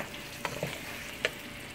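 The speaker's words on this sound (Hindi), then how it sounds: "अब हम इसको अच्छे तरीके से भून लेते हैं" Chicken karahi frying in a wok gives a steady soft sizzle, with a few clinks and scrapes as a spoon stirs it. The cooking sounds faint and close, with no talking.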